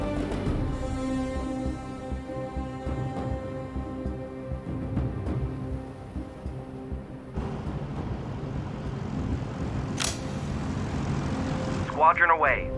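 Aircraft engines drone in the Pacific naval battle of Leyte Gulf in the strategy game Sudden Strike 4 as a squadron takes off, a steady mid-level hum under voiced unit commands, with a sharp burst near the end.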